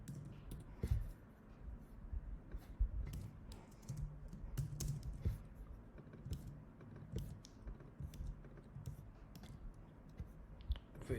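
Computer keyboard typing while writing Ruby on Rails code for a property search feature, with steady clicking keystrokes in uneven bursts, close and fairly quiet, continuing throughout with no talking.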